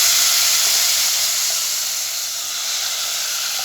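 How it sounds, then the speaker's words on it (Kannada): Ground masala tipped into hot tempering oil, a loud continuous sizzling hiss that holds steady without a break. "ಈಗ ರುಬ್ಬಿಕ್ಕಂದಿರೋದು ಮಸಾಲೆ ಹಾಕ್ತಾಯಿದ್ದೀನಿ."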